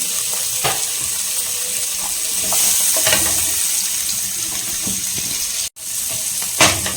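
Green capsicum frying in butter in a pan, a steady close sizzle with scattered sharp clicks and scraping knocks from stirring, one brief cutout midway.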